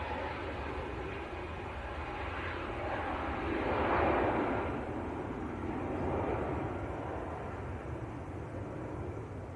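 Jet aircraft at Manchester Airport, a steady distant engine roar that swells gently around the middle and again near the end, heard outdoors with no voices.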